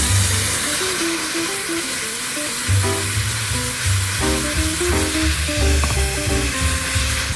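Chopped tomatoes sauté in olive oil in a pot, giving a steady close sizzle and hiss with occasional stirring and clinking sounds.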